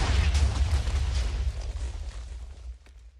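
A TNT cannon explodes in a Minecraft-style TNT Wars match, a deep rumbling blast that roars at first and then slowly fades over a few seconds, with no speech.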